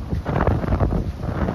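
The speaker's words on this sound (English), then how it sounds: "the wind is blowing the camera around" Wind buffets a camera microphone outdoors on a gusty day of golf, producing a steady, loud, low rumbling roar with no pauses and no voices.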